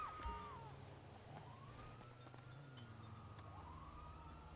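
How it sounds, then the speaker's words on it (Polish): A wailing police siren in a video game sweeps up and down at moderate distance over a steady low rumble of traffic, with game-like ambient noise throughout. "Kajla, policję dostałem."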